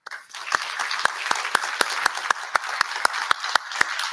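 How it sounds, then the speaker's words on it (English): An audience applauds a session speaker, a fairly small group clapping in steady rhythm, with one close, loud pair of hands standing out in a regular beat above the rest. "we can maybe give applause to Evandro for joining us in this session"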